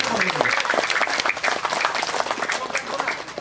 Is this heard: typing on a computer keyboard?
no